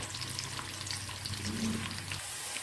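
Chopped garlic and onion fry in cooking oil in a kadhai, a steady close sizzle with soft crackle and faint stirring throughout, and no voices.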